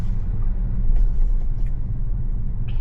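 A Tesla drives on New York roads, giving a steady low rumble of tires and road noise inside the cabin with faint higher creaks and no voices.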